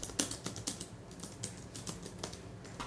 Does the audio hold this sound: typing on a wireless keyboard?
yes